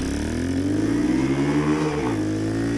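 A custom 1967 Honda CT90 motorcycle with a swapped-in YX140 engine and auto clutch pulls hard off a light in first gear, its close, loud engine note climbing in pitch, dipping briefly, then rising again.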